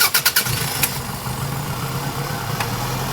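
A Toyota RAV4 with a low-power fault cranks in a few quick, choppy bursts, then catches and settles into a steady, rough idle close by.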